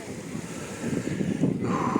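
A light sea breeze on a crowded beach in Gelendzhik rushes steadily against the microphone, with a soft surf-like wash underneath and a faint low murmur, building slightly toward the end.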